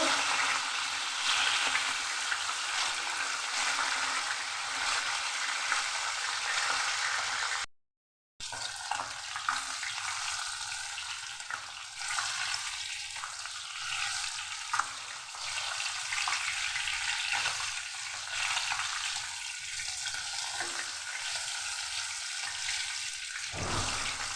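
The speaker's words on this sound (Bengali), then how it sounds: "আমি এইভাবে উল্টে পাল্টে লাল করে ভেজে নেব।" Small silver carp pieces fry in hot oil in a kadai, turned over until browned, giving a steady close sizzle that runs throughout, broken by one very short silence.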